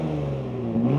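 A Ford F150 Raptor Gen 3 pickup's trombone-style exhaust drones in a brief, moderately loud rev that swells slightly toward the end.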